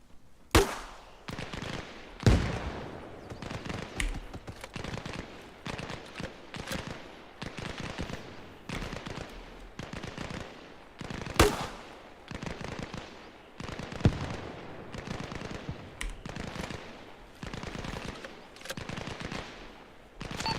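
Sustained gunfire in the game Arma Reforger, a steady stream of rapid cracking shots with a few louder single reports, continuous for twenty seconds at moderate distance.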